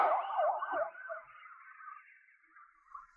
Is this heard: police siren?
yes